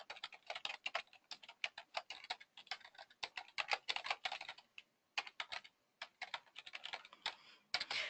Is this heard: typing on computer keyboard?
yes